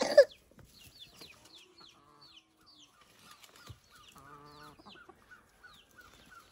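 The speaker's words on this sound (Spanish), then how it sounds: "Mira, mira las gallinas." Hens clucking in short, scattered calls with intermittent bird chirps in the Huasteca Potosina, Mexico, fairly quiet and spread across the scene, with a brief louder knock at the start.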